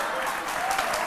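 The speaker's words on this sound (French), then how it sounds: "tellement contents, ils applaudissent." An audience applauds steadily throughout, a dense sustained wash of clapping at an event, close and even in level with no pauses or voices standing out.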